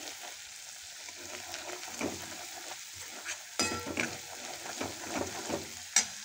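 Ground spice paste (vatan) sizzles steadily in hot oil for a traditional Marathi pumpkin vegetable dish, with repeated scraping stirs of a spoon across the pan and a sharper clink near the end.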